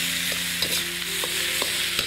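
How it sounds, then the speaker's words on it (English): Rice being stirred and folded in a hot pan, a continuous sizzle with a few soft scraping strokes of a spoon, close and even, without talking. "carefully I'm going to mix that and fold that in"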